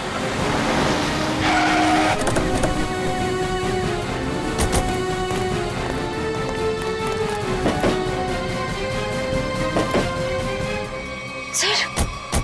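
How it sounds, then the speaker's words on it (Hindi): A car engine drones loudly and steadily during a chase, with occasional sharp knocks and a brief high squeal near the end. "वो रही गाड़ी।"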